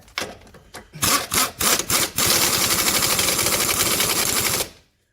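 Pneumatic impact gun driving an impact-rated socket onto a wishbone bolt on a W906 Mercedes Sprinter van, a few short stuttering bursts followed by a long continuous loud hammering rattle that stops abruptly.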